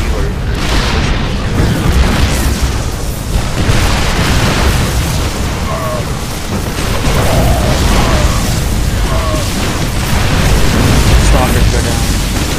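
Siege tanks fire in a StarCraft II Terran versus Protoss match, a dense, loud, continuous barrage of booming shots and explosions layered over one another for the whole stretch, with game sounds and commentary speech mixed in.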